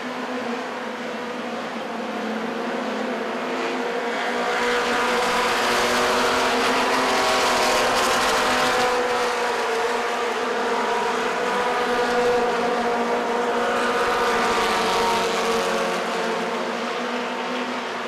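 Race cars roar past together at Wythe Raceway in a weekly division race, a loud, sustained engine drone that swells and fades as the pack goes through a turn.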